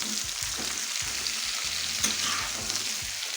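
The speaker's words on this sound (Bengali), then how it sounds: "এখন এর মধ্যে আমি এই ডুমো করে কেটে নেওয়া কুমড়ো এবং পুঁই ডাঁটাটা দিয়ে দেব।" Diced pumpkin and Malabar spinach stems sizzling in hot oil with nigella seeds in a Bengali kitchen, a steady close hiss with soft scraping stirs at regular intervals, no talk.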